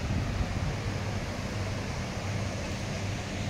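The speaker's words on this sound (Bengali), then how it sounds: "ঝর্ণা পড়ছে, একটা সুন্দর শীতল হাওয়া, সাথে ঝর্ণার আওয়াজটা শুনতে পারবে তোমরা" Waterfall on the Nilgiri Mountain Railway near Ooty, heard from the toy train as a steady, dense rush of falling water with wind noise, continuous and fairly close throughout.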